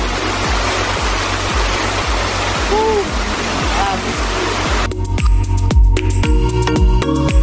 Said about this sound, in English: Okay, now I go to the shower.